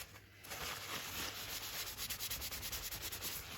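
Excess spirit stain is rubbed off a Gibson Les Paul neck, a close, quick run of dry scrubbing strokes with a rapid rhythmic swish.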